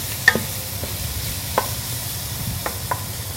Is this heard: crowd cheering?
no